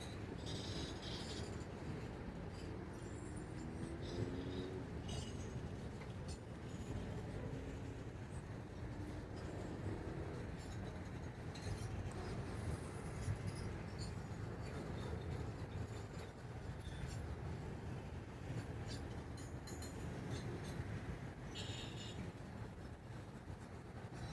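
A CN mainline freight train rolls past toward the yard in Vaughan, Ontario, a continuous heavy rumble with steady wheel noise and occasional squeals and clanks, sustained and fairly distant throughout.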